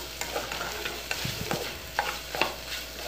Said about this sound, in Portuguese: eu prefiro refogando o camarão por causa que fica mais gostoso